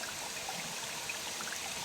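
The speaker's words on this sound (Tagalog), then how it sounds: "may tubig dito na umaagos" Polluted water trickling and flowing along a stream below an old, once-famous falls, a steady close babble of running water with no talk.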